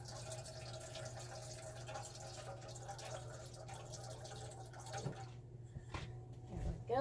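Tap water runs steadily through indoor pipes to fill a pet's water supply, a low continuous rush and trickle heard close but quiet, with a few clunks and rising splashes toward the end.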